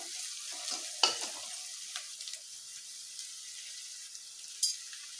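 Raw banana stem frying in a pan makes a soft, steady hiss, with a few light scrapes of stirring, one sharper clink early and another near the end, fairly faint.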